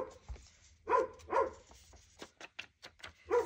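A dog barks outside at dusk, giving several barks at irregular intervals, moderately distant, mixed with other faint short sounds.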